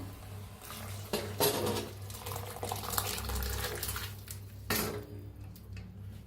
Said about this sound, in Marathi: की बी मोड आलेली मटकी बी चांगली शिजलेली आहे, ओतून घेऊया